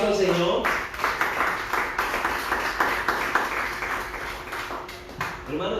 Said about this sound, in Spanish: Podemos dar un aplauso al Señor.